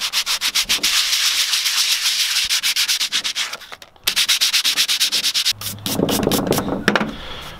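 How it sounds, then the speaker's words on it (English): Close, loud rhythmic back-and-forth rasping of sandpaper, 60 grit among it, worked by hand across a wood cross-section to bring out its growth rings, with steady fast strokes, a brief pause near four seconds, then coarser scrubbing resuming. "going to sandpaper this and try to make it to where I can count all the growth rings"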